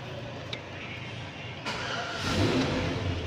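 A GMC American car engine cranks and catches after a grounding fault is fixed, the motor rising into a steadier, louder running hum near the end.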